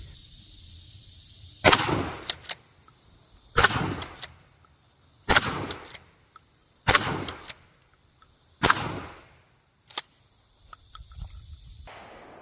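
A 12 gauge Citadel PAT 12 tactical shotgun fires double aught buckshot at cabbages outdoors: five loud, booming shots spaced about two seconds apart, each with a short echoing tail over faint insect chirping.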